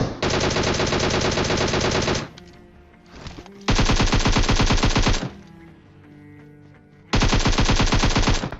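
Loud automatic gunfire in the shooter game PUBG Mobile: long, rapid bursts of shots close up, broken by short quieter gaps, with no talk over it.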